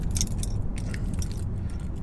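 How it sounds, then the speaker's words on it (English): A Jeep SRT key fob jangles in the hand, bright metallic clinks scattered through about two seconds over a steady low background rumble, fairly close and with no talking. "So here is the Jeep SRT key."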